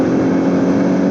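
A car engine holds a loud, steady, humming drone under load for about a second, with no talking.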